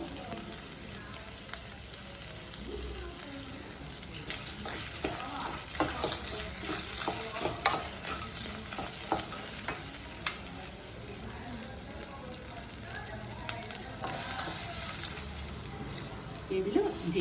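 Cumin and spices sizzling in hot oil in a pan for a red chutney served with paddu, a steady soft frying hiss with occasional stirring clinks, fairly close and moderately quiet throughout.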